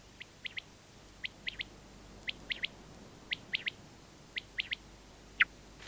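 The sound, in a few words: thrush singing at dusk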